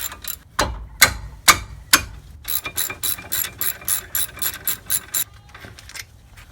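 A ratchet wrench with a 15 mm socket works the brake bolts on a 2003 Ford Taurus: a few slow, loud clicks, then a steady run of rapid close-up pawl clicks.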